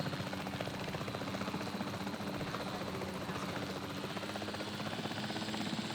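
A helicopter in the dinosaur park building game Jurassic World Evolution 3, a steady rotor thrum with a rhythmic chopping pulse, moderately faint and continuous with no talk.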